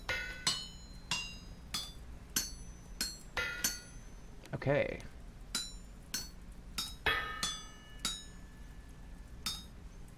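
A wind-powered helve hammer in the game Vintage Story strikes metal in a steady rhythm of ringing clanks, each blow sharp and metallic, with a brief spoken word partway through.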